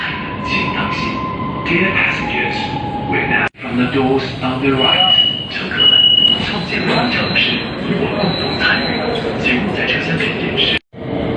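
Kunming Metro Line 3 train in motion, heard from inside the car: a steady loud rumble with wheel squeals and high whines, two brief drops in level, and people talking throughout.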